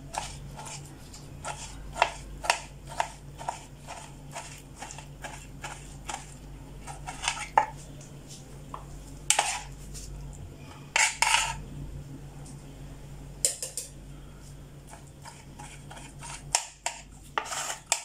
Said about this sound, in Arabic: غادي نقطعها طريفات صغار بدون ما نطحنهاش